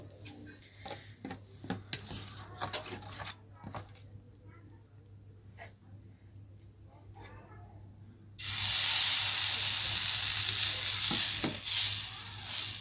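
Eggplant slices fry in oil over a low gas flame for Bengali pitha preparations, with a quiet sizzle and scattered clatter under talk, then a loud, steady sizzle bursting in near the end.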